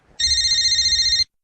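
A telephone bell rings in one steady, loud electronic burst lasting about a second, clear and close with nothing else heard.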